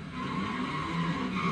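Tires on a 1987 Buick Grand National GNX screech in one sustained, fairly loud squeal with a rough, even texture throughout.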